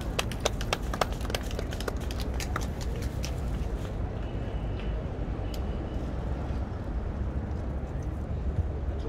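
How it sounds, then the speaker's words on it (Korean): Audience applause at an outdoor memorial press conference in Korea, scattered claps sounding sharply at first and then thinning into crowd murmur and voices. "당당한 여전사 진순정 최고위원께 다시 한번 큰 박수 부탁드리겠습니다"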